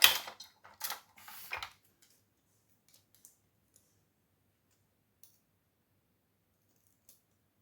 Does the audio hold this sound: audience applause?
no